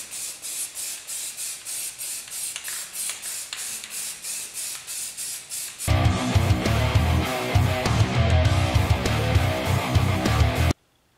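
A spray can lays primer onto the back of a Mazda Miata wheel. Short hissing bursts repeat in a steady rhythm, then give way to a louder continuous spray that cuts off abruptly near the end.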